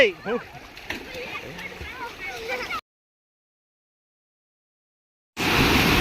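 Small children splash while bathing in a little canal, with loud sloshing water and children's voices nearby, broken by a few seconds of silence before the splashing resumes.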